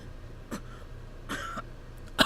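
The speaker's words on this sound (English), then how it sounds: "After a while, his coughing slowed" A game character in Hakuouki coughing: a few short, separate coughs and a throat-clearing rasp spaced across the moment, fairly close, with the last burst sharpest and loudest over a quiet background.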